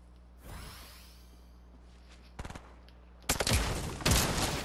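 Gunfire in a Fortnite match: a brief burst of shots around the middle, then louder, denser automatic fire in two close bursts near the end, over steady game background noise with no talk.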